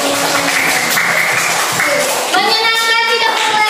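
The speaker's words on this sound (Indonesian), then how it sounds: "Beri tepuk tangan untuk kita semua." A class of schoolchildren claps together, a dense patter of hands fading near the middle before children's voices rise in a bright sing-song chant over the last stretch.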